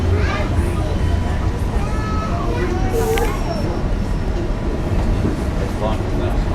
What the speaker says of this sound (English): I think this train with these tanks is some sort of gas train.